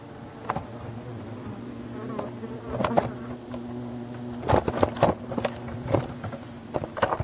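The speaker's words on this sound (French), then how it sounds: "on voit très bien le stress des abeilles" Wild bees swarm and buzz at their nest in a tree in a Breton marsh, a dense continuous hum with sharper close buzzing passes and wingbeat bursts layered over it, some loud near flybys.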